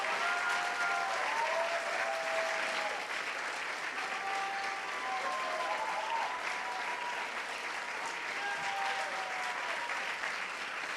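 Steady audience applause fills a hall as speakers are welcomed onto the stage at a political party general assembly, with faint voices and cheers drifting through the sustained clapping.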